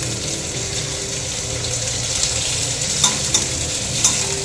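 A home cook stirring and frying food in a pan, with steady loud sizzling throughout and a few sharp scraping clinks of the spoon toward the end, no voices.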